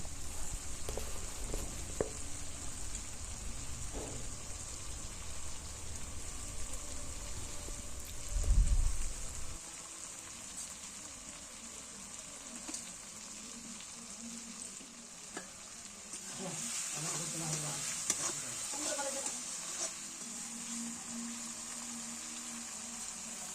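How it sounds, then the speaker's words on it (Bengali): Fish sizzles steadily as it fries in a pan with mustard paste, a continuous crackling hiss with soft stirring scrapes and a brief low bump midway, no talk. "সর্ষে বাটা দেওয়ার পর হালকা নাড়াচাড়া করে পরিমাণ মতো লবণ দিয়ে দিচ্ছে"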